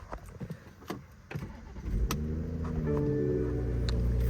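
A stock BMW 540i with a non-M Sport setup cranks over with a few short clicks and bursts, then catches and settles into a steady, fairly loud idle that runs close by to the end.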